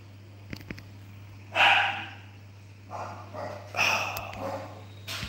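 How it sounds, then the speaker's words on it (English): A small dog barks in short sharp yips, a couple of quick ones followed by louder repeated barks close by, over a steady low electrical hum. "You know when you have a little dog and they just bark louder than everybody else in the world"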